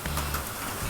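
Rain patters on an outdoor kitchen with a Blackstone griddle, a dense, steady wash of close drops with a few sharper ticks standing out, and no talk over it.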